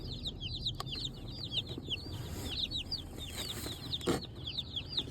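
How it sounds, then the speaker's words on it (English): Many baby meat-bird chicks peep constantly in a busy chorus of high, rapid cheeps, close up, over a low rustling background. "The baby biddies are in, the baby meat birds."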